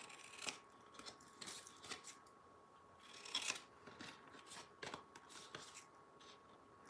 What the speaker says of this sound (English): I'm going to trim the tabs.